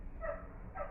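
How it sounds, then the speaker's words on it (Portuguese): A neighbour's dog gives two short, muffled barks heard from a distance indoors, spaced under a second apart. "Desculpa o barulho do cachorro, tá? O cachorro do vizinho."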